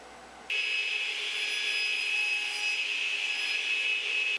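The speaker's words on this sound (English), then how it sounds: "And now I'll cut them to length on the radial arm saw." A radial arm saw cuts wooden pieces to length for a woodworking vise, a steady loud whine that starts abruptly and runs unbroken close by, with no talk.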